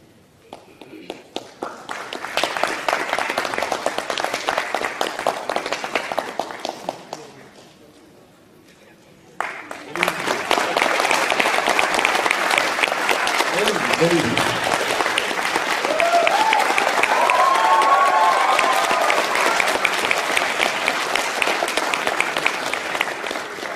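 An audience applauds after a stage play, a dense burst of clapping that fades out, then after a short pause swells again into sustained loud applause, with a voice speaking over it partway through.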